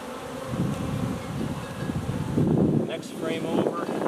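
Honeybees buzz steadily around an open hive during an inspection, a dense droning hum that stays close and continuous while a person talks over it.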